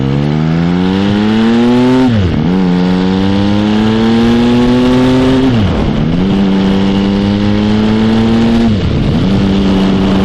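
A motorcycle engine out on the road, loud and close, revving up through the gears three times with a clear dip at each shift, steady and continuous, with no speech.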